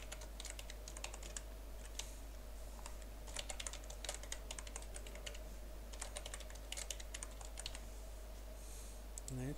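Steady typing on a computer keyboard while a password is entered during a Windows Server 2016 domain controller setup, with quick, close key clicks in irregular runs over faint background hum.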